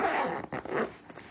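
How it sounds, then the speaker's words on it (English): The pocket zipper of an FPV flight bag is pulled closed in a few quick, close rasping strokes, each with a short pause between. "zip this part back."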